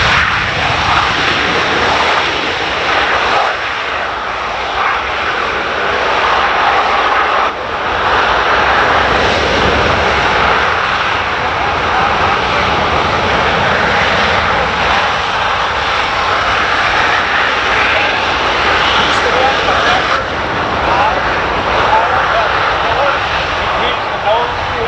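A USAF C-17 lands at the Dayton Air Show 2024 with its jet engines in thrust reverse, giving a loud, sustained roar that fills the whole stretch. A voice talks over the noise throughout.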